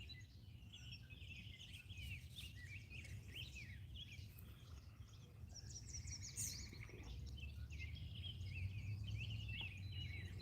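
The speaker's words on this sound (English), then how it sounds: "listening to the birds and the bees." Birds chirp and trill outdoors in repeated short calls over a steady low background rumble, moderately close and continuous, with no talking.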